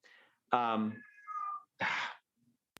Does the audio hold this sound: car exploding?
no